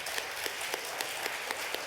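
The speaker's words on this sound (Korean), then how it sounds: "다시 한번 큰 박수 부탁드리겠습니다." A lecture-hall audience at a Buddhist academic conference gives steady applause, a dense wash of clapping with a few sharper individual claps popping out at a fairly even rhythm, moderately distant and with no talking over it.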